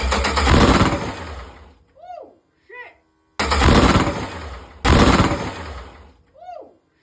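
An 800hp C10 truck engine cranks over in two long, loud bursts of churning roar, each trailing off into whirring, whining wind-downs and short, quieter sputters.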